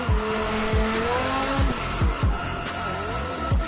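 A BMW drifting in the CarX video game, its engine revving up and down in quick, repeated surges while tires squeal continuously through the slides, loud and close.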